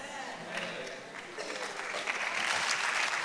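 A church congregation claps during a sermon, a rising, fairly distant wash of applause mixed with voices and cheering.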